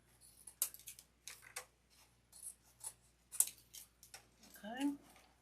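Scissors snip through grapevine wreath stems in a series of distinct close cuts with short pauses between them, and someone speaks softly near the end.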